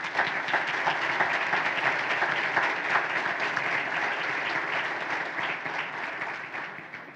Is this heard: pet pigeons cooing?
no